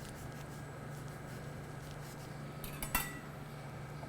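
A knife cuts dumpling dough into tiny pieces for a Tobago crab and dumplings dish, giving a few faint, quick taps and clicks against a board near the end over a low background hum.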